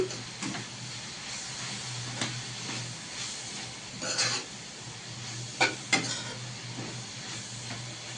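Drumstick leaves frying in oil with red chilli powder, a soft steady sizzle with intermittent scrapes and clinks of a spoon stirring against the pan, fairly quiet and close with no talking.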